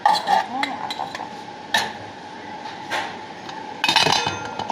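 Metal pots clank and clink as they are set onto a kitchen stove while cooking Saudi kabsa, a series of sharp close knocks and rattles with some background noise.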